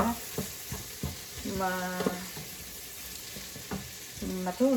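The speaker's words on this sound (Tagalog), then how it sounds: "ang pinaggisahan ko po ay butter and nilagyan ko po ng oil para po yung butter ay hindi po siya" Food sautéing in butter with added oil in a pan, a close, continuous sizzle and crackle with intermittent stirring and some tonal clinks rising above the frying noise.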